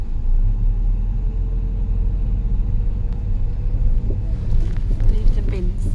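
Car being driven, a low steady road rumble and engine drone close inside the cabin, with people talking over it toward the end.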